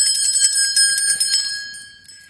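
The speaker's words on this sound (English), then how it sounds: "So let's ring the bell." A small metal bell rings with bright, sustained overtones, several quick strikes clustered early and then a long shimmering decay fading out, heard alone and close during a shamanic healing session.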